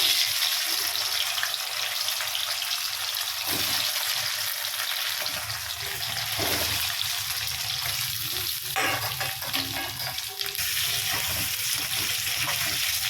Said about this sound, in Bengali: আমি এবার আলুটা ভেজে নিচ্ছি।